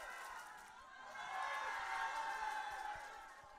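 Applause and cheering rise from a live show audience welcoming a Vietnamese singer, a dense sustained crowd roar that swells midway and holds steady.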